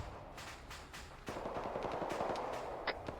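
Gunfire in the military video game Arma 3, with scattered single shots and short bursts echoing at moderate distance, then heavier sustained firing that thickens and grows louder partway through.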